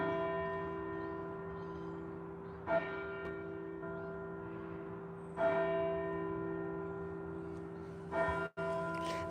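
Carlisle Cathedral's bells ring out with sustained, resonant tones, three distinct strikes spaced a few seconds apart, each swelling over a long humming decay, heard outdoors at moderate distance.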